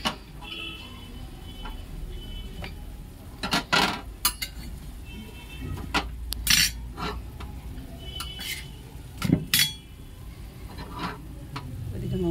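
Ghugni spice mix being sautéed in a pan, with soft scraping and clinks of a utensil against metal in uneven bursts over a steady low background, several sharper knocks clustered near the middle and end.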